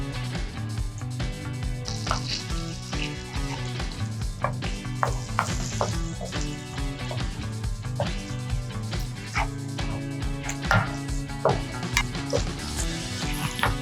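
Cream hits a hot pan with chicken and celery for chicken stroganoff, a steady sizzle broken by frequent clacks of a spoon stirring, with faint background music underneath.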